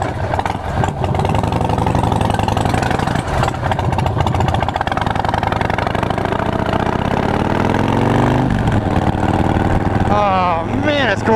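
A Breakout big bore motorcycle engine idles loud and close with a steady low rumble, its pitch climbing briefly near the end as if lightly revved.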